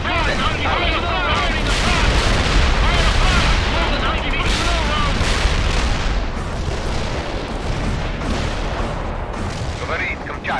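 Incendiary bomb strike in World in Conflict: a dense, continuous roar of overlapping explosions and crackling blasts, loud and sustained throughout without pause.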